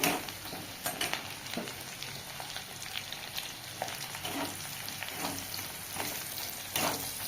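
Garlic and chopped chili fry in leftover pakora oil, giving a steady, soft sizzle with scattered crackles and pops, faint and continuous throughout, with no voices.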